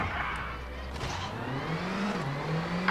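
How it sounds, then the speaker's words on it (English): Rally car engine in the video game WRC 8, revving and rising in pitch as it accelerates, steady and fairly loud with road noise, no talk over it. "I'm going to shut up a little bit so you guys can listen to the sound of the engine"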